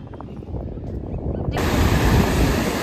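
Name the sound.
strong ocean waves and wind at Marina Beach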